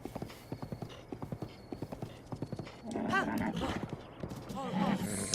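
Epona, a horse in the video game The Legend of Zelda: Breath of the Wild, trots with steady, rhythmic clip-clop hoofbeats, then snorts and whinnies near the end while someone talks over the gallop.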